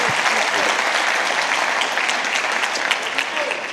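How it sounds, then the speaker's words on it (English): An audience applauds a community leader and coach at a motivational talk, dense sustained clapping filling the room from start to finish, with some voices mixed into the crowd noise. "Give one more round of applause for Ricky Sothers."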